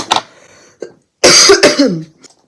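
A few harsh, close coughs from someone with a sore throat: one short hack, then a stronger pair of rough coughs trailing into a throaty rasp.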